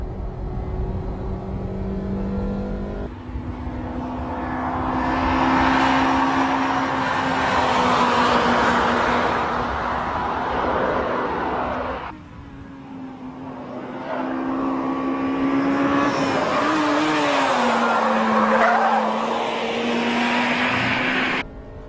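A Honda Integra Type R race car drives hard on a track, its engine revving up through gears in long rising pulls, with a clear shift break midway before climbing again.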